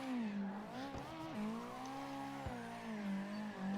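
A drift car in CarX Drift Online, a Phoenix NX driven with a Thrustmaster T300RS wheel, holds a steady tonal engine drone that dips and rises as it slides, with brief thumps at gear or throttle changes.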